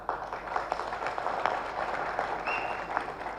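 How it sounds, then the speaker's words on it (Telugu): Audience applause at a Harikatha event, a dense burst of many hands clapping at once, sustained and fairly loud throughout with a brief faint whistle partway through. "క్షమించాలి, చప్పట్లు కొట్టడం కోసం చెప్పలేదు నేను"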